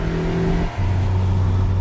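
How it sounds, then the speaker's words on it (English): A harsh car engine in a retro-bodied supersaloon roars under acceleration, a loud, close, steady drone that dips briefly during a gear change and then picks up again at a lower pitch before climbing. "the harsh engine roars at you in protest"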